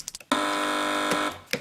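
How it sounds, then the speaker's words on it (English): A game show buzzer on a British panel quiz sounds once, a loud steady electronic drone lasting about a second, with faint studio noises around it. "Fingers on buzzers, teams, for the first spinning clue."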